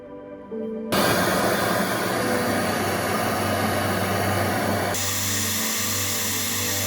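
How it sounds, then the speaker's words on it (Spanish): A torch solders a check valve onto the tubing of a small flame-powered refrigerator. After a brief quieter start, it opens into a loud, steady, close roaring hiss that holds without a break. "Soldamos por aquí."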